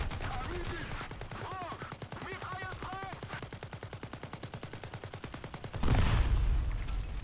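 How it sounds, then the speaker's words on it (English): Rapid, evenly spaced machine-gun bursts from a T-54 tank in War Thunder Mobile rattle on for several seconds, with a brief whistling tone mixed in and a heavier rumbling blast near the end. "It has 2 machine guns that are useful against light vehicles."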